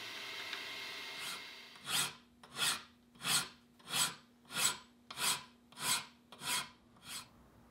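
A hand file chamfers the sharp corners of steel vise jaws, about nine steady rasping strokes in an even rhythm, close and clear after a quieter start, with no talk.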